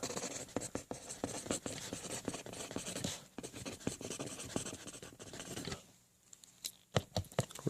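A Pilot G2 series mechanical pencil writes on a plastic DVD case, with quick scratchy strokes and light taps in an uneven rhythm, close up, pausing briefly before resuming.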